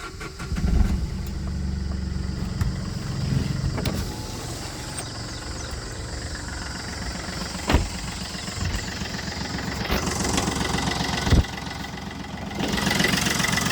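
A Chevrolet Beat diesel hatchback engine idles steadily with a low, even rumble and a couple of brief clanks, with no talking.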